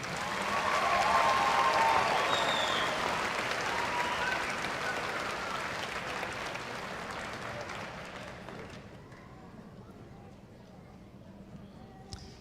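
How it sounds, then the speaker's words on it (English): Loud applause from a large crowd at a high school graduation ceremony fills the space, then gradually thins and fades to scattered claps. "Another round of applause for the AWR band."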